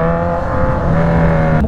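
A blue Raider motorcycle passing close on a bypass road in Pangasinan, a loud steady engine drone holding through the whole stretch before shifting pitch near the end as it goes by.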